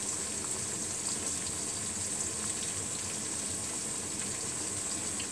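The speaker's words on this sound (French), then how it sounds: "il faut le rincer, mais vraiment un petit rinçage rapide, léger" A bell pepper is rinsed quickly under a running kitchen tap, giving a steady, moderately close hiss of flowing water with no talking.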